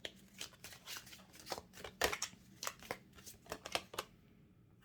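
Tarot cards are shuffled by hand before the final draw: a quiet, close series of uneven riffling flicks and soft slaps repeating rhythmically throughout.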